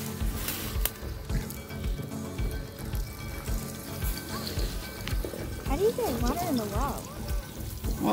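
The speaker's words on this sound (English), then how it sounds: "This water is moving." Water moving through a freshly struck shallow well line runs as a steady, rushing wash, with voices talking over it throughout.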